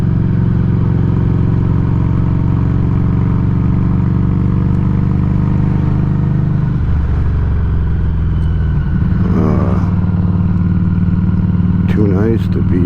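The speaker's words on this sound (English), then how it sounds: "That deceleration sound. It's putting around in 4th gear." A Harley-Davidson motorcycle with a raw muffler exhaust decelerates in 4th gear, making a loud, steady low putting rumble that drops and wavers near the end, with a voice over it.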